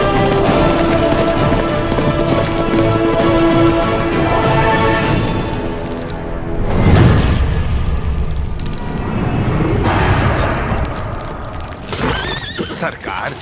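A horse neighs and hooves clop in a dramatic film scene, loud and dense under a full music score with booming hits, while someone speaks over it.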